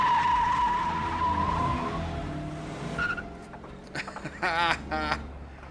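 A car skids in a scene from the film Apollo 13, a loud sustained tire squeal lasting about two seconds, then fading into road noise as voices talk and laugh over it.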